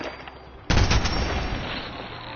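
Rapid automatic gunfire in Fallout 4, aimed at tiny, fast enemies: a loud sustained burst cuts in abruptly after a quieter opening and rolls on with a reverberant, rattling tail.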